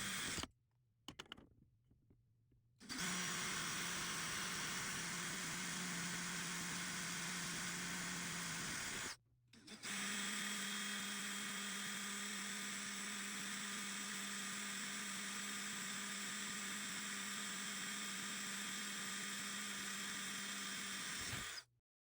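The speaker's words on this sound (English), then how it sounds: "So I'll go ahead and finish drilling the 3 holes in the body of the caulking gun here." A power drill whines continuously in two long bursts separated by a short pause, loud and close, drilling holes in the body of a caulking gun, with brief stops at the start.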